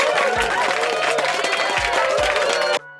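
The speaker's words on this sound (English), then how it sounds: "Give him a round of applause." A crowd claps and cheers loudly for a few seconds before the sound cuts off abruptly.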